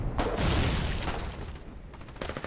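Heavy 120mm artillery shelling in the war game Foxhole: a deep rumbling blast swells and slowly fades over a couple of seconds, with crackling debris and a faint later thump, loud and dense, no voices.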